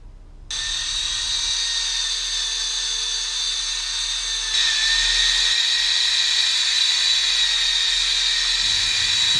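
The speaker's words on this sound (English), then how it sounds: "just got to cut along the bottom of that just to shorten it a little bit" A power cutting tool runs continuously on the side tray of a 1970 VW camper bus engine bay, a loud, steady high whine that grows a little harder partway through, close by and with no talking.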